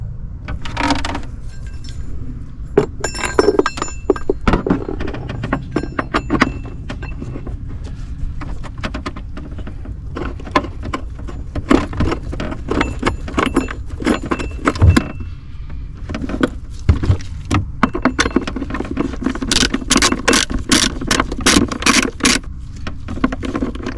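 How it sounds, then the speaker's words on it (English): On a 2006 BMW 120D E87, a battery mounting bracket and bolt are refitted, making close metallic clinks, rattles and tool ratcheting in irregular bursts, with a run of rapid clicks near the end. "Time to refit this battery mounting bracket and bolt."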